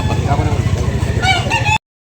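At a morning rooster market in Cebu, roosters cluck and crow loudly and close amid a dense chorus of other fowl. The sound cuts off abruptly near the end.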